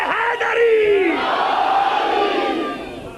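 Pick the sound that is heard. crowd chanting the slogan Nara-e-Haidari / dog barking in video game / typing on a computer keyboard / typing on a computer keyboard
crowd chanting the slogan Nara-e-Haidari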